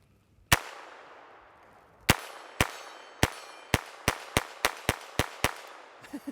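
A CMMG rifle fires a string of about ten sharp, loud gunshots outdoors, starting with two spaced shots and then quickening into a rapid, evenly paced volley, each crack trailing a brief echo.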